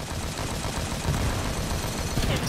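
Rapid gunfire from the Halo 5 video game, a dense continuous burst of shots filling the clip at steady, fairly loud level with no talk over it.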